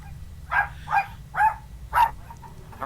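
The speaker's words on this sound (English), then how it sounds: "my dogs are barking" Dogs bark indoors in a home, four evenly spaced sharp barks at moderate distance over a low steady hum.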